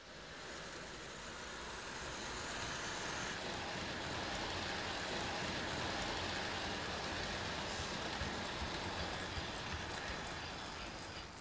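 American Flyer model trains converted for extra power run on a layout, a continuous dense rumbling whir of motors and wheels on track, steady and fairly close, without speech.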